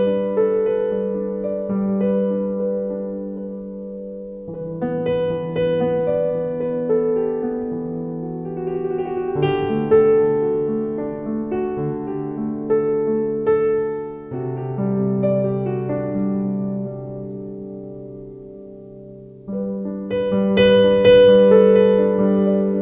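Soft sampled BBC Symphony Piano plays slow, sustained chords with gentle melodic notes on top, calm and clear, swelling and fading between phrases.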